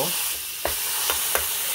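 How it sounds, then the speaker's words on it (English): Hamburger meat patty sizzling in a hot pan, a steady bright frying hiss with a few soft clicks and taps from a utensil, close and moderately loud, no talking. "just let it sizzle for a little bit"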